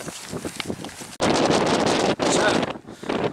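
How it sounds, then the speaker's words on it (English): Strong gusts of wind batter the microphone at a wild campsite at Tarn Hows in the English Lake District, roaring loud and close in surging bursts. "You can't pack them away because it's too goddamn windy."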